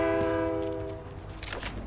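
A train horn in the Fortnite video game blares a sustained chord that fades out, followed by brief game sounds.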